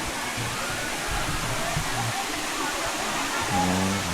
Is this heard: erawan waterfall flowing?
yes